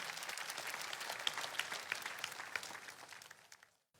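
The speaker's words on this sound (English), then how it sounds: "Shall we clap for wonderful Jesus Christ?" An audience applauds together at a religious gathering, a steady crowded clapping with scattered louder claps that gradually thins and stops near the end.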